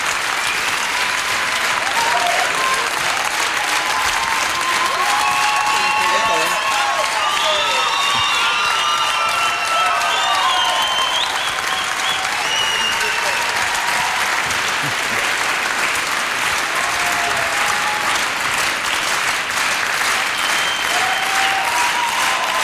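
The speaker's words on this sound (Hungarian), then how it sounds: "a férfiak nagyobb tapsot kaptak" Sustained applause from a large television audience at a singing-contest final fills the whole stretch, dense and steady with scattered cheers and whistles throughout.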